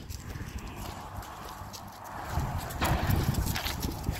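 Horse hooves clip-clop in an uneven walking rhythm, growing louder and closer partway through, with faint background noise.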